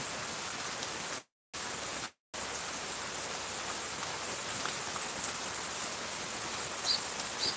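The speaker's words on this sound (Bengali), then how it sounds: "বৃষ্টির সকাল থেকে আজ বাইরে বের হতে পারবো না বৃষ্টি অনেক বেশি" Heavy morning rain pours down steadily outside a balcony, a dense, even hiss of drops striking surfaces that fills the whole scene, interrupted by two brief silent gaps, with no voices.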